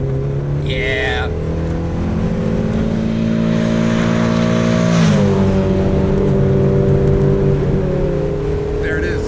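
VW Cabriolet accelerating hard, its engine note climbing steadily with strong induction roar and exhaust growl, then a brief dip at a gear change before pulling again; loud and close, heard from inside the car.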